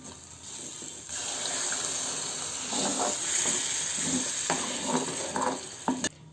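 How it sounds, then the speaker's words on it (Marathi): Water poured into a simmering tomato masala, a steady close gush and hiss lasting several seconds and ending with a few faint knocks. "पाणी घालून घेऊ आता त्याच्यामध्ये"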